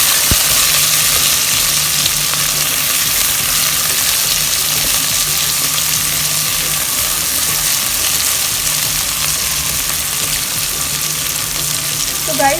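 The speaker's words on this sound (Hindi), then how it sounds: "अब हम इसमें ऐड कर देंगे कटी हुई प्याज। और प्याज को हम इतना भूनेंगे कि वो गोल्डन ब्राउन हो जाए।" Chopped onions frying in hot oil with crisp cumin for chana pulao, a loud, steady sizzle that holds evenly from start to finish, close up, with no talking over it.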